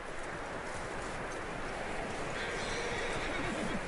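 Horse hooves clopping along steadily with a neigh in the video game Red Dead Redemption 2, over a constant dense background of ambient noise.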